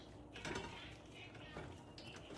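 Tuscan-style chicken and zucchini being stirred in a pan, with soft scraping and clinking of a utensil against the metal surface, steady and close, no talk.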